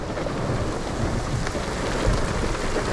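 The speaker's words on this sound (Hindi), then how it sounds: "दबा के, मतलब दबा के बारिश हो रही है" Heavy rain pours on an electric car driving through the mountains, a dense steady hiss and drumming on the body that continues without breaks and with no voices.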